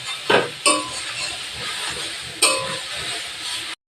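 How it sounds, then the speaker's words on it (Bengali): Grated carrots fry in ghee over low heat for carrot halwa, giving a continuous sizzle. A few sharp clinks and scrapes of a spoon against the pan stand out near the start and again later, with no talking. "হালকা হালকা হিটে ভাজতে হবে।"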